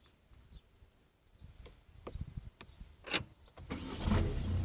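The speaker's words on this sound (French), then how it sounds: "Donc là, on met le contact." A Peugeot 208 is started up: an ignition click, a brief starter whir, then a low engine settling into idle, close and moderately quiet inside the car.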